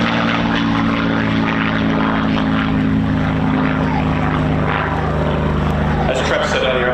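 Propeller engine drone of a Supermarine Spitfire MH434, a combat veteran warbird, flying at an airshow, a steady loud rumble throughout with a commentator talking over it.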